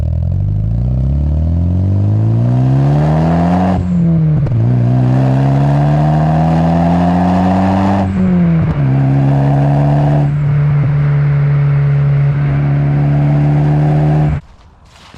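A 1998 Eagle Talon TSi with an aftermarket exhaust revs hard and loud, climbing in pitch several times with a deep, throaty exhaust growl, then cuts off abruptly at the end.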